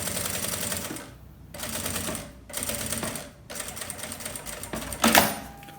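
A sewing machine stitches a visible seam on a shampoo pouch with a long stitch, running in three bursts of rapid mechanical whirring separated by short pauses, close and loud, with a sharp clack near the end.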